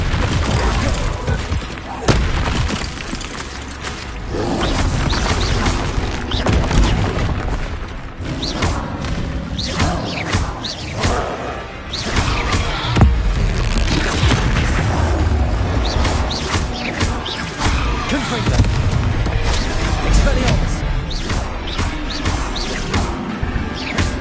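Spell explosions in Hogwarts Legacy on PS5 form a dense, continuous barrage of booms, crashes and thuds, loud and close, with a voice breaking in now and then.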